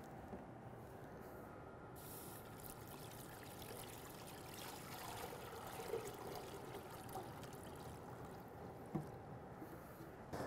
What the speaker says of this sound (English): so I'm gonna add some water